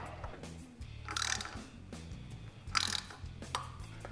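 Clicking ratchet strokes come in short bursts as nuts are tightened on a VW 1600cc dual-port engine, the mechanical ticking close and fairly quiet.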